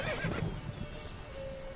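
A horse in The Witcher 3 lets out a short, loud neigh near the start, then quiet clip-clopping hooves carry on over steady game ambience.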